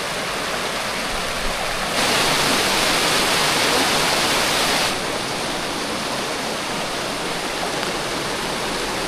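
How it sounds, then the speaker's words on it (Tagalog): Boswa Falls in Sagada, Mountain Province, gives a steady, loud rush of falling water that swells briefly and then settles back to a constant roar, with no voices. "Yung Boswa Falls."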